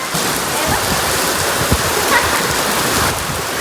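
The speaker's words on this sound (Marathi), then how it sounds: "पहिला पाऊस पहिला पाऊस" The season's first rain pours down steadily, a dense, loud wash of hiss with scattered drops and splashes close by, unbroken throughout.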